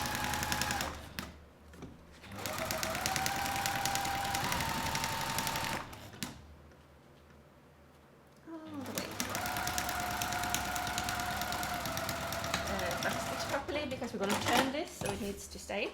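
A sewing machine stitches a bag's fabric tube closed with a quarter-inch seam in two long runs of rapid whirring, separated by a brief pause, with talking in between.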